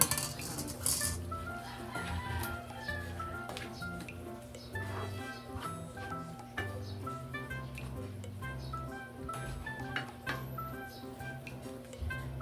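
A pot of malunggay (moringa leaves) with noodles and squash gets stirred, with repeated metal clinks and scrapes of a utensil against the cookware under a low simmer, close by.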